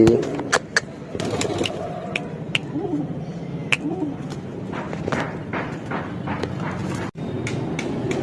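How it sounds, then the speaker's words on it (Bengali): A pigeon with a ring on its leg coos softly in a low throaty tone, partly buried under a steady engine or traffic rumble and sharp clicks nearby. "তো গাইস, পায়রাটা এটা ছিল, জানি না কার।"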